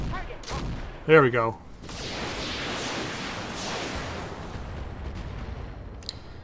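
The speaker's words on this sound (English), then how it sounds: "I had to fire everything just to make sure we killed him." Gunfire in the tactical shooter Roguepoint: a sharp burst of shots early on, then a rolling, noisy wash of firing and echo, with a brief spoken remark near the start.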